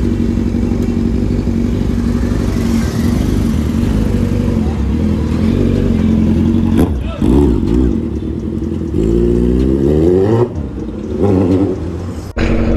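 Kawasaki Z1000 superbike engine running loud and steady while riding, with rising and falling rev pitch and a sharp rev burst near the end, heard alongside wind rush and occasional speech.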